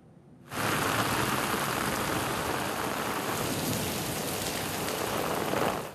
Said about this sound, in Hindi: लाहौर में मूसलाधार बारिश